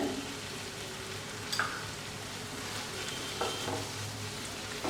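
Soft, continuous sizzle of tomato and onion masala sautéing in a pan, with a couple of light spoon taps, fairly quiet and without talk.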